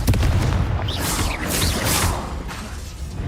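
Confringo blasting spell from Hogwarts Legacy, a loud booming explosion with swooshing magical bursts and rumbling low end, sustained over a few seconds with no talking.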